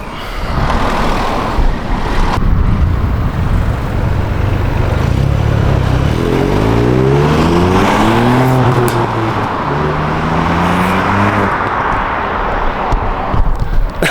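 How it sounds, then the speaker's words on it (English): 2022 Ford Puma ST on its stock exhaust making flybys, a loud, steady engine roar that swells as the car passes close, with rising and falling tones through the middle and crackles near the end. "we'll see what this stock exhaust sounds like"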